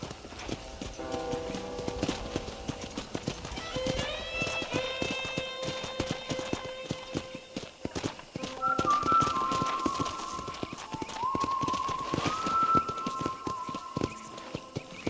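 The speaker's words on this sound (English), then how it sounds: "let's see if you can still ride a horse" Rhythmic hoofbeats of a horse clip-clopping at a quick pace in the video game Red Dead Redemption, continuous throughout, with musical tones layered over them.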